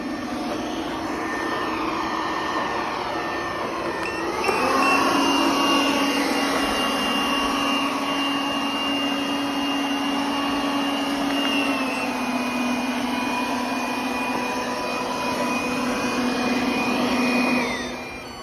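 An OKP K8 robot vacuum cleaner runs continuously with a steady whirring motor drone and a high whine that shifts pitch as the suction setting changes partway through, loud and close with no talking.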